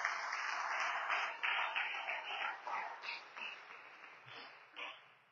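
A church congregation at a Sunday service applauds the Lord, with loud, steady clapping from many hands that carries on unbroken for several seconds.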